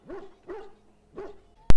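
Dogs in the fantasy game Dragon Age: Origins give three short, close barks in quick succession, followed by an abrupt loud burst at the end.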